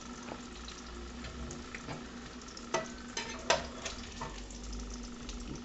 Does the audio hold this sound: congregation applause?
no